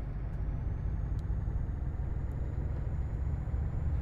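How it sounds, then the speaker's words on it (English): Euro Truck Simulator 2 truck slowing on its transmission brake, a steady low droning rumble with a constant hum, continuous and fairly close with no talk. "in a truck, they actually have that I think it's called a transmission brake, and it uses the transmission to slow the truck down"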